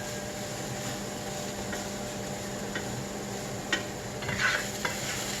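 A garlicky spaghetti squash lasagna mixture is stirred in a cooking pan, giving a steady, close scraping and soft sizzle throughout, with a few sharper clinks of the utensil against the pan near the end.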